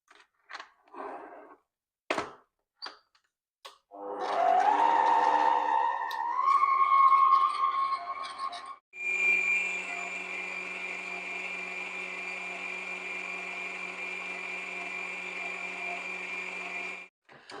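After a few scattered clicks, an electric hand mixer whirs as it whips eggs with sugar for a sponge roll, its steady motor hum rising in pitch, briefly stopping, then running on evenly and close.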